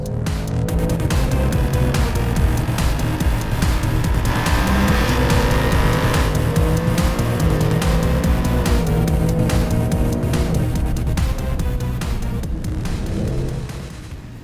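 A 2021 Ford Mustang Mach 1 engine roars loudly and continuously as it is driven hard around a track on a hot lap, revving up and down through gear changes.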